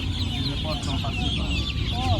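Chickens cluck steadily at a bird market selling fancy poultry, a dense flock chorus close by with overlapping calls and crowd murmur underneath.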